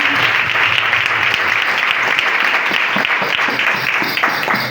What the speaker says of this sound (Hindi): अपनी बरकतों के लिए जोरदार तालियां बजाएं।